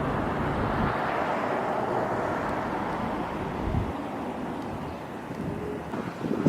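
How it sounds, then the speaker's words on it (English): Strong gusty wind roars steadily outdoors in Farmington, New Mexico, buffeting the microphone with a dense, continuous rumble and no pauses. "It's very windy out."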